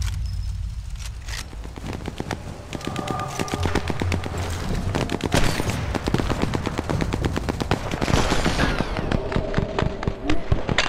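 Rapid bursts of gunfire from Sniper Elite 4 on Nintendo Switch, dense volleys of sharp shots crackling almost continuously at close range for about eleven seconds, with a brief quieter gap near the start.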